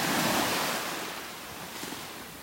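Ocean waves wash onto a beach in North Naples, Florida, a broad hiss of surf that peaks at the start and gently fades, mixed with light wind noise.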